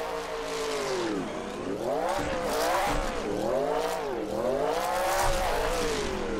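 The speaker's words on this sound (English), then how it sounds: "Gonna heat these rear tires up and we're gonna go full send and see what we can do in this" Nissan S14 drift car revving hard as its rear tires spin, engine note rising and falling in repeated loud sweeps with continuous tire noise, close and steady throughout.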